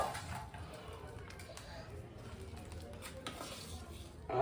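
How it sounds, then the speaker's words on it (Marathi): Garam masala being stirred and mixed into chilli powder for homemade Malvani masala, a soft steady scraping and rustle of spoon against a vessel, faint and continuous, with a short clatter near the end. "गरम मसालो आम्ही या मिरची पावडर म्हणजे मसाल्यात ओतलेलो आता मिक्स करता आहोत"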